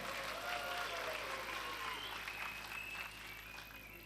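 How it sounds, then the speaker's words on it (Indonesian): Applause fills the hall at the opening of a GBKP Mamre church service assembly, a soft, distant wash of clapping that gradually fades, with a voice faintly over it. "Tepuk tangan."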